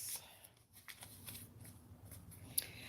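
Tarot cards are shuffled by hand, with quiet papery riffles and soft flicks at close range and one sharp snap near the end.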